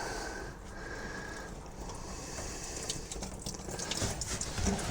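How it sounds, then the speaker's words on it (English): Pink coolant draining from the engine block petcock of a 1976 Mercruiser 120hp boat engine, a faint, steady trickle and splash of liquid, close by and fairly quiet, rising slightly toward the end. "all that pink fluid's coming out right there. And we'll just drain that block."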